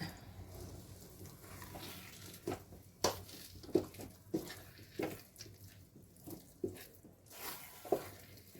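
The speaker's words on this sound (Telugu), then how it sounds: "ఇలా కలుపుతూ ఒక పది నిమిషాల పాటు కలుపుతూ ఉండాలి" Thick homemade tamarind paste being stirred in a cooking pan, giving repeated soft squelching, scraping strokes at an irregular rhythm, close and fairly quiet with no voice.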